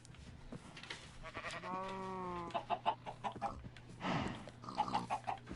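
Minecraft animal noises: a drawn-out farm-animal call, then a string of short chicken clucks and squawks over a low steady hum, fairly close.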